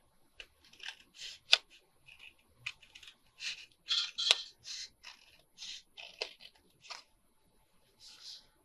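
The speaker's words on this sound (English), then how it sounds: "we're going to cut up along this side" Scissors cut paper for a concertina fold-out journal with pockets, making a series of short, crisp snips in irregular bursts, close and clear against a quiet background.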